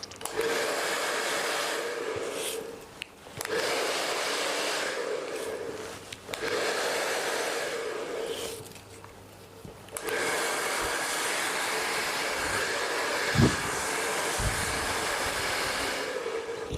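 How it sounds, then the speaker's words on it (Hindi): A handheld blow dryer works over hair for an outward-curl set, its steady broadband whoosh running loud and close, cutting out briefly a few times before starting again. "अब ये जो बचा हुआ सेक्शन है इसके अंदर भी हम अच्छे से ड्राई कर लेते हैं।"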